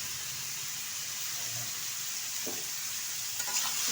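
Chopped bottle gourd goes into a hot pan with oil and sizzles steadily, and a spatula scrapes and stirs it in a few short strokes near the end.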